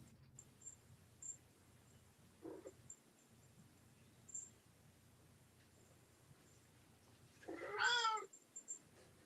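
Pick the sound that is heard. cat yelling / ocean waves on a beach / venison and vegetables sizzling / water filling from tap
cat yelling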